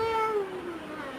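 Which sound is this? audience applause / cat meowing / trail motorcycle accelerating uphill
cat meowing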